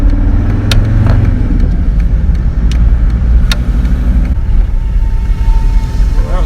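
A VW T4 van drives along, its engine humming loud and close, then the sound changes abruptly as it brakes to a stop, with the engine settling to a lower, steadier note afterward.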